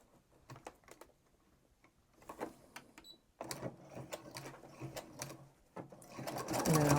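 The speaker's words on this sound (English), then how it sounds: "we're going to sew right on that line" A sewing machine stitches a reversible table runner in short bursts of rapid mechanical clatter, then runs longer and louder toward the end, with quiet handling noises between.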